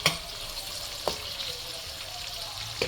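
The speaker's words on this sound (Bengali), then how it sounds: "প্রথমে আমি বাদাম আর কিশমিশটা ভেজে নিচ্ছি।" Almonds and raisins frying in oil for zarda, a soft steady sizzle with a few sharp stir clinks at the start, middle and end, and no voices.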